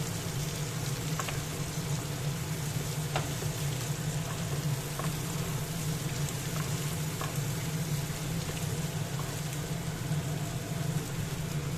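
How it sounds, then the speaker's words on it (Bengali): Thin papaya strips fry steadily in a pan, a continuous soft sizzle with occasional faint scrapes of stirring, close and even throughout. "পেঁপেটা বেশ কিছুক্ষণ একটু নাড়াচাড়া করে ভেজে নেব।"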